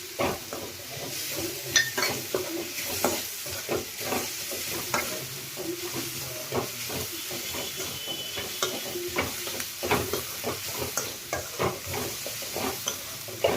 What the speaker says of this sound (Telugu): ఇది కూడా ఇందులో వేసి బాగా వేపాలి.